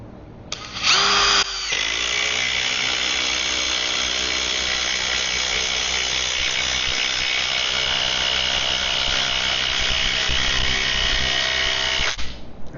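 A Ryobi P239 brushless impact driver on a high-output battery drives a 4-inch lag bolt, a loud, close, continuous buzzing whir that runs for about ten seconds after a brief start, then stops abruptly.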